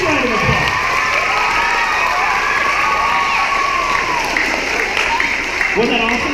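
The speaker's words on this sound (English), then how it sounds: "Big round of applause." An elementary school crowd of children and adults bursts into applause and cheering, a loud sustained clatter of clapping with shouts throughout and voices mixed in.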